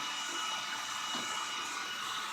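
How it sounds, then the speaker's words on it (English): A hair dryer runs continuously with a steady, airy whir and hiss, close and even throughout, with no talking. "if I keep the hairdryer on"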